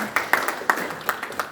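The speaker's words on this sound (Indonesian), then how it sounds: "Tepuk tangan buat Tuhan Yesus." A church congregation claps during a worship service, a steady patter of many hands with sharper accents, moderately loud and close, with no talk over it.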